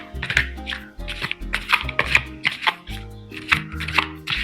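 A deck of tarot cards is shuffled by hand nearby, crisp riffling bursts and soft slaps repeating in an uneven rhythm over a low background tone.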